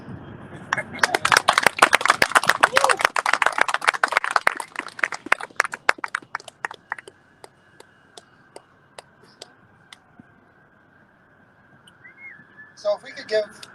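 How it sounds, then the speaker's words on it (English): Audience applause with whistling, a dense burst of clapping that thins into scattered claps and fades, followed by near silence and a few faint sounds at the end. "if we could give John and Gabriel a round of applause again"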